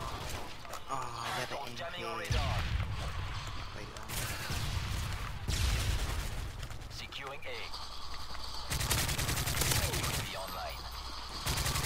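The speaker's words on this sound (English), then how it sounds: "Enemy airstrike approaching." Gunfire and heavy blasts in a multiplayer shooter video game during an enemy airstrike, with loud bursts and booming impacts recurring in waves across the scene, while players talk over the action.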